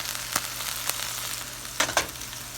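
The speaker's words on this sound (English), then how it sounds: "And here it's sizzling." Steak sears in a hot frying pan with a continuous bright sizzle, punctuated by a few sharper pops and crackles, close and alone with no talking.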